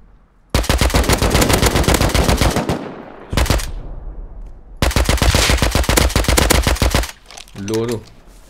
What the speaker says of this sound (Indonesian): Kau tembak ke Oyen? Tu PG tembak